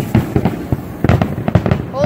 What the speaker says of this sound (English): I think the fireworks show has started.